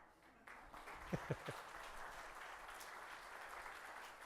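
Faint, distant applause from an audience at an HR summit talk, soft continuous clapping under room noise, with a few sharper nearby claps standing out early on.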